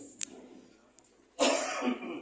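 A single harsh cough bursts out close to the microphone after a quiet moment with faint clicks, trailing into rough throat noise.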